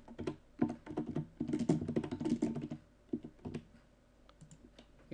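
Close, rapid typing on a computer keyboard while text is being edited in Adobe After Effects, with a dense burst of keystrokes, a short pause, then a few scattered presses.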